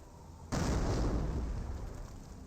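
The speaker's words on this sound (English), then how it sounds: "I think the incendiary mortar largely missed" An incendiary mortar round bursts in Company of Heroes, a sudden loud boom followed by a sustained, rumbling roar that fades slowly.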